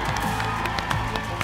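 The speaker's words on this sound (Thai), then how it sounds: "ขอเสียงปรบมือให้กับคุณแคท" Studio audience applauding a game-show contestant, a steady wash of many hands clapping close and continuous with a busy crowd texture, no one talking over it.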